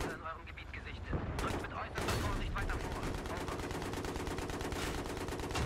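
Dense, continuous gunfire in the multiplayer shooter Battlefield 3: rapid automatic bursts rattle almost without a break, mixed with louder nearby shots and what sounds like an explosion early on, with no pauses.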